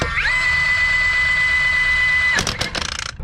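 An Ingersoll Rand W96 cordless 1-inch impact gun tightens wheel lug nuts: a loud, steady high-pitched whir for about two seconds, then a short burst of rapid hammering impacts, close and alone.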